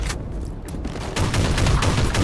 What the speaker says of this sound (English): did you see the little explosions of the heavy bolter?